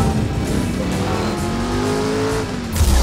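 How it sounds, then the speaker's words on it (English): A car engine in the video game Driver: San Francisco roars loudly and steadily as the car jumps over a truck, with a rising engine tone and a brief clunk near the end. "you just jumped a freaking car over a truck!"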